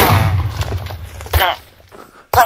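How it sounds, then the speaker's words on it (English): Minecraft fire spell cast by right-clicking, shooting flame particles at a test dummy and setting the ground ablaze: a few sharp, loud bursts and thuds, with a punchy blast near the start, another midway and a final hit at the end. "it'll shoot some flame particles, the ground where he's standing on on fire, lighting him on fire as well"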